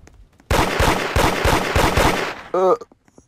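A rapid, loud volley of revolver shots in the Roblox game Da Hood, roughly eight evenly spaced cracks fired close, then a short metallic ringing tone after the burst, with no talk over it.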